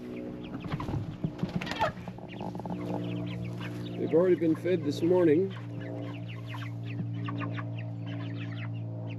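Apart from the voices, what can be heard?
meat chickens clucking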